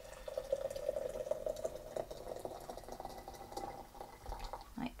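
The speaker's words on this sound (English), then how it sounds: "but first we're going to pour" Boiling water poured into a teapot makes a steady, soft gurgling trickle that fades toward the end, finishing with a faint clink.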